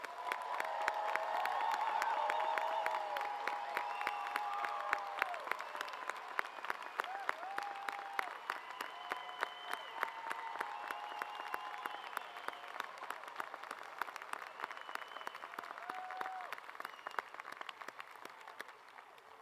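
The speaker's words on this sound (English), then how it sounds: "Let's give our graduates another big round of applause." A large crowd claps in sustained, dense applause for graduates at a law school graduation ceremony, with a few cheers mixed in, gradually thinning out toward the end.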